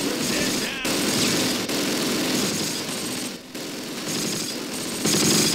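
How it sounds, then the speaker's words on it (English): Machine gun fire in the World War II tank game Close Combat, with dense continuous bursts and explosions filling the scene while someone talks over the gunfire. "And that machine gun is pretty damn nasty, man."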